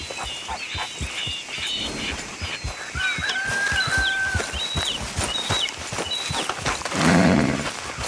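Boaz, Javier's horse from Red Dead Redemption 2, a small but strong horse, clip-clops at a steady walk with birdsong and ambient outdoor game sounds around it, ending in a brief snort or whinny.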